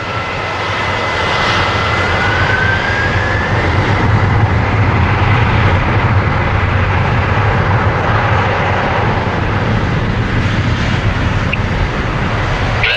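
A Boeing 747-400 taking off at Toronto Pearson: a loud, sustained roar of jet engines that builds in the first seconds and then holds steady and powerful, close and alone without talk.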